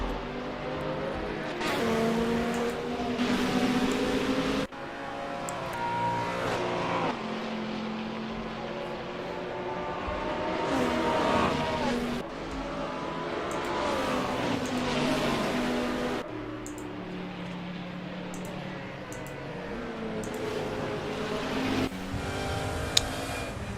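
Touring cars from the ATCC sim racing series run down the back straight at Lakeside, a steady, loud engine drone that rises and falls in pitch as the pack passes, with no voices.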